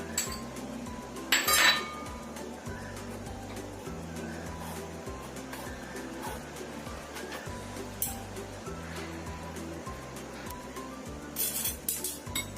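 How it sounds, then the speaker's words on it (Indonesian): Flour sifted together with baking powder and baking soda in a home kitchen: a steady gritty shaking and tapping of a metal sieve in a repeating rhythm, with occasional clinks against a bowl, close and continuous. "Ini saya tambahkan setengah sendok teh baking powder dan setengah sendok teh baking soda. Ini kita ayak sampai tercampur ya."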